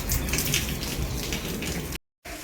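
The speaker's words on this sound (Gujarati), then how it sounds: "ગાજવાનું ચાલુ હે ભેગો થોડો થોડો વરસતો જાય" Steady rain falls on a farm in Gujarat, a close, even hiss of drops that runs unbroken, then cuts out briefly near the end before resuming.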